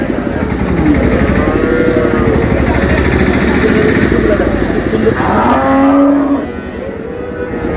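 Sahiwal cows at a busy rural cattle market in Dinajpur low loudly and repeatedly, with long drawn-out moos up close over crowd noise and engines in the background.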